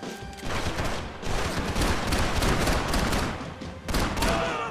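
Gunfire in the Max Payne 3 video game, dense rapid bursts of shots crackling almost continuously, with a short pause before another volley, with no speech.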